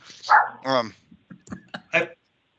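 A dog yips and barks in a few short, sharp bursts, close and clear over an online meeting call with near-silence between them.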